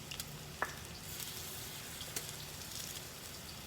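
Veggie latkes frying in oil across two pans, giving a soft continuous sizzle and crackle with a couple of brief sharp pops, quiet and close, no voices.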